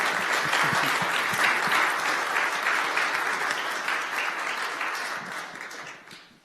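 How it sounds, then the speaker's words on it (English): An audience at an evening talk applauds loudly and continuously, the clapping dense and steady before gradually thinning and fading out at the end. "a round of applause for Sandy."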